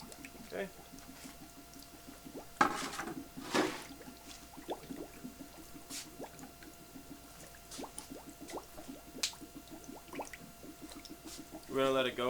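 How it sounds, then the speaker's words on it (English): Soft-serve mix bubbles and gurgles inside an Electro Freeze CS600 machine after being poured into the top, a steady stream of small liquid pops and drips at close range, with faint talk nearby. "We're going to let it go until it finishes bubbling."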